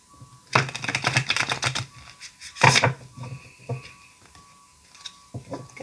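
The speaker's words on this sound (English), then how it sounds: "I'm just going to do a very quick shuffle." A tarot card deck being shuffled quickly, heard as bursts of papery riffling and snapping in two main flurries with a few lighter taps after, close and alone without talk.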